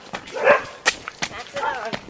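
A dog barks in a few short, sharp bursts on a countryside walking path, with people talking nearby over and between the barks.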